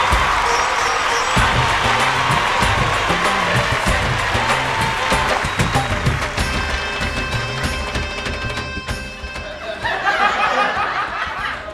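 Applause and cheering from a studio audience welcoming a singer on the stage of a Bhojpuri music competition show. It is a loud, dense, steady clapping wash with some laughter and music, continuing throughout.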